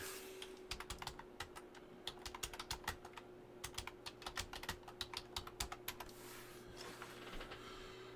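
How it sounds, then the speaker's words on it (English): A computer keyboard clatters with rapid, uneven keystrokes in quick bursts, fairly close and quiet, over a low steady hum in the room. "I'll just type it in."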